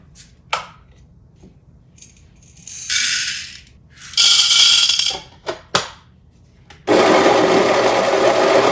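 Coffee beans are ground in a grinder in a home kitchen. Several loud, close whirring bursts start and stop, and a final longer run grinds continuously to the end.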